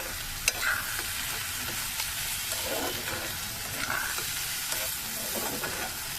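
Bitter gourd frying in a pan during rooftop cooking, a steady, close sizzle and hiss throughout with occasional scraping stirs of a utensil.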